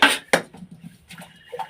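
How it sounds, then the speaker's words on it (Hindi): Dishes, pots and pans being scrubbed with soap: sharp clanks of metal utensils knocking together, then softer rubbing and light scraping, close and uncovered by talk. "साबुन ले बर्तन माजा"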